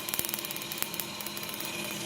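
An electric arc nearly an inch long jumps from an overheating self-oscillating relay, giving a steady, fairly faint crackling buzz broken by a few sharp snapping ticks.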